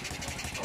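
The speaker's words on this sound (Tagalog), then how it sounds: "hindi pa alam na pwede pala mapandar yung motor sa pamagitan ng isang dextrose" An old motorcycle, left unused for ten years, runs with fuel fed from a dextrose drip bag, its engine making a steady, close, pulsing idle throughout.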